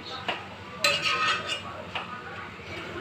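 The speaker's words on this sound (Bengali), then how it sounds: "এবার ঢাকনাটা খুলে দেখব।" A lid lifted off a cooking pot of chana dal and cabbage gives a few light metallic clinks and taps, close and moderate, over a low kitchen background.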